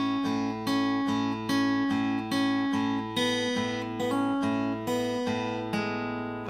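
Guitar slowly playing bar 3 of a song with repeated plucked notes and chords in a steady, unhurried pattern, close and clear with no voices.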